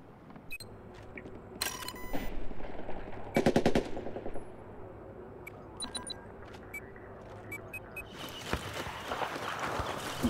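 Gunfire in the video game Battlefield 4, with bursts of rapid automatic shots and scattered single cracks mixed with clanking mechanical noises and rumbling battlefield ambience.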